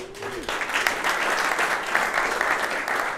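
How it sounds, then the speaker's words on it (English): Audience at a web developers' meetup in Amsterdam gives a round of applause, a steady, fairly loud wash of clapping that fills the room after a brief spoken word at the start. "Can we give him a round of applause?"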